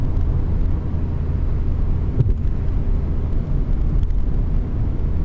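Steady low drone of a Peugeot car cornering at about 100 km/h, a constant engine and road hum heard from inside the cabin, with no talking.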